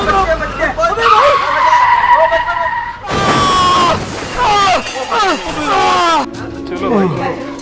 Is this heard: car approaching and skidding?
yes